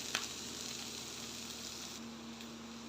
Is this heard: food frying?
yes